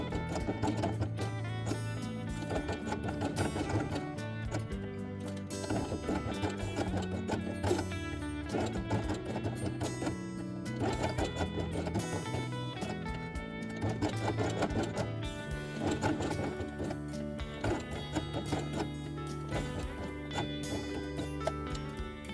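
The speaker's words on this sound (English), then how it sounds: "sew along the edge, matching the color of the thread to the color of the felt" A sewing machine stitches along the edge of felt circles for a quiet book page, running steadily with a rapid mechanical clatter and rhythmic whir throughout, with no talk.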